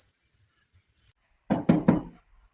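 A few sharp knocks on a door at night, three close raps in quick succession, loud and near after a quiet stretch.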